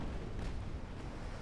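In the naval warfare game Ultimate Admiral Dreadnoughts, a torpedo strikes a warship with a deep, muffled boom that rolls on as a low rumble for about a second and a half. No one talks.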